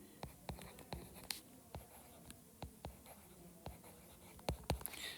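A pen writing out a maths equation on a surface, a run of short scratchy strokes and taps at an uneven pace, close and quiet, with no voice over it.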